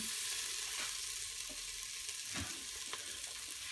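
Chilli base sizzles steadily in an Instant Pot, a close hissing fry with occasional soft scrapes and knocks from stirring, no voices.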